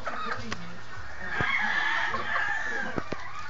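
Gamefowl roosters of Sweater and yellow leg breeds crowing in a long drawn call, with scattered clucks and sharp short calls around it, moderately near, under faint murmured talk in the background.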